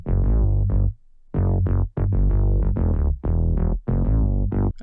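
An 1980s-style synth bass layered with a real electric bass, playing a punchy, deep line of short repeated notes in phrases, separated by brief pauses.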